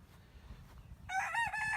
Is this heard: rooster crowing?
yes